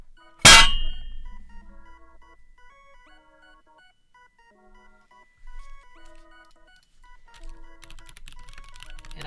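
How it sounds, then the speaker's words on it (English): Keys on an all-metal machined computer keyboard: a sharp metallic clang opens, followed by sparse, faint clicks that grow busier toward the end, with nothing else around them. "It's this nice machined metal keyboard that I really, really like. It sounds really good to type on."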